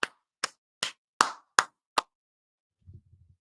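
A single person's signature clap, six sharp, evenly spaced claps over two seconds, close and crisp, followed by a few faint soft taps.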